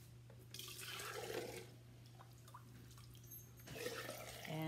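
Homemade bone broth pouring through a wide mouth funnel into a jar, a faint, steady liquid trickle and splash with a low background hum, swelling slightly near the end.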